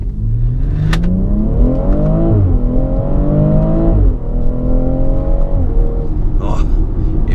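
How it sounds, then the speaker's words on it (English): A 2018 BMW X3 M40i crossover's engine revs hard from inside the cabin, its pitch climbing through several rising pulls with brief dips at gear changes, loud and close, with talking over it. "It's crazy that a little crossover sounds this good."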